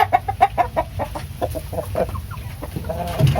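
Heritage chickens cluck in a quick run of close, loud, repeated notes, with a rooster among them.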